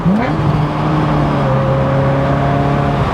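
Ferrari F355 GTS engine blipping on a downshift, a loud rising rev that settles into a steady high engine whine and drone from inside the targa-top cabin.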